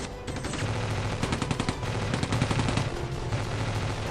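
Sustained gunfire and machine-gun bursts from an Omaha Beach landing exhibit at a Normandy museum, a dense rapid rattle of shots that carries on steadily for the whole stretch with no voices over it.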